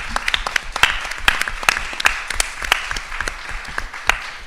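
Applause from an audience at a talk on sustainable air travel at the Harold Washington Library, a dense, steady patter of many hands clapping throughout with sharper individual claps standing out, fairly close and loud.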